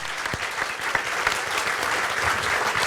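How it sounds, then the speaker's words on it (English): An audience at a gallery talk event breaks into a burst of applause, a dense, even clatter of many hands that fills the room with no voice over it. "So let's give them a round of applause."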